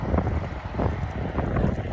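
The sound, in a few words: strong wind while cycling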